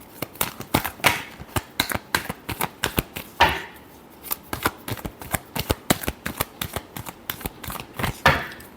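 Tarot cards are shuffled in rapid, crisp riffling bursts, close and loud, with a brief pause partway through before the shuffling resumes.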